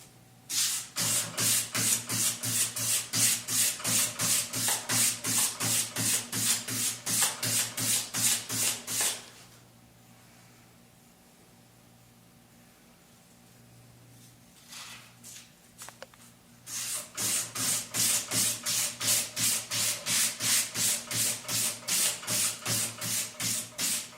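A file or stone rasps rhythmically back and forth across an axe bevel, dozens of quick even strokes, pausing for several seconds mid-way before the scraping resumes at the same steady pace, close and loud.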